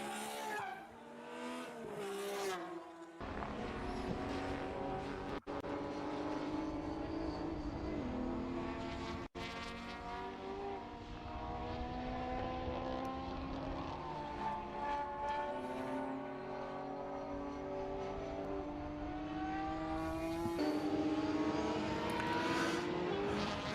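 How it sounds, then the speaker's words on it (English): Classic touring cars race at Estoril in the Heritage Touring Cup, their engines a continuous loud, rising and falling howl as cars pass and shift, with a brief tire squeal and no talk over it. "we have unbelievably crept into the final 10 minutes of this Heritage Touring Cup race"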